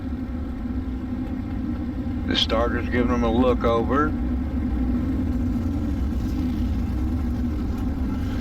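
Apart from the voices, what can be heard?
dirt street stock race car engines in iRacing video game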